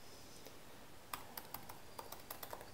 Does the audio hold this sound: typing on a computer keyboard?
yes